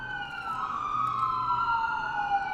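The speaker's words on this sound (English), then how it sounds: "that was an ambulance." An ambulance siren wails with a steady rising and falling tone, loud and sustained over a constant background of traffic noise, passing close by an open window.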